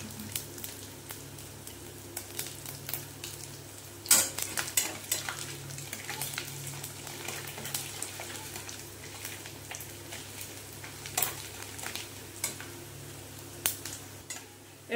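Garlic frying in a pan for an aloo chholar tarkari, a soft steady sizzle with scattered scrapes and light clinks of a utensil, close and fairly quiet throughout.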